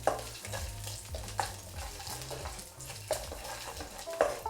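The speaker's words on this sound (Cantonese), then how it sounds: "爆香啲薑蒜先。" Ginger and garlic sizzle in a little hot oil in a wok, with a steady frying hiss and occasional scraping stirs of a utensil, moderately loud and without talk.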